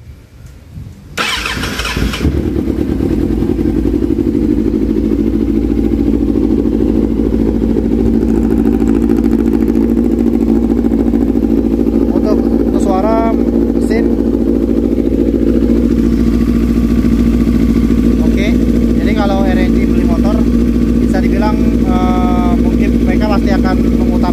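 A used big-bike motorcycle engine starts and then idles steadily with a loud, continuous mid-pitched drone close by, with brief higher mechanical chirps in the background.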